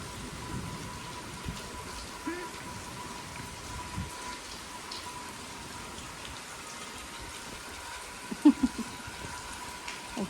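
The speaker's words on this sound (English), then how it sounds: "Watching the rain, Cooper." Steady rain patters on the roof and surfaces around a van during a tropical storm turned hurricane, a soft continuous hiss with a few sharper drops and a faint low rumble.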